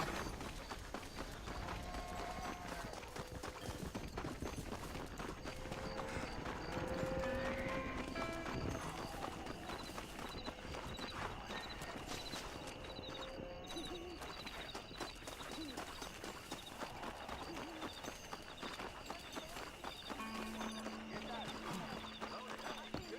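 Horses pulling a stagecoach in the Western video game Red Dead Redemption: steady clip-clop hoofbeats run throughout, with occasional whinnies, faint birdsong and light background game ambience.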